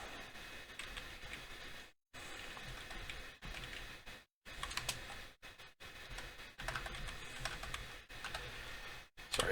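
Rapid keystrokes on a computer keyboard with failing backlights, clicking in busy bursts separated by brief silent pauses, close and moderately quiet, no one talking.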